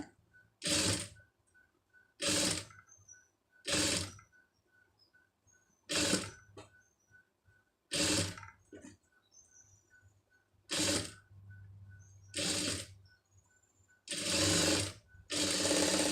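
Sewing machine stitching a puff sleeve, running in repeated short bursts of steady rapid clatter separated by quiet pauses, close and fairly loud.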